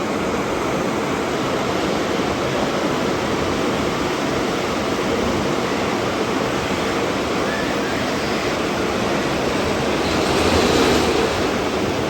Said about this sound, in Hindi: और दरिया की आवाज़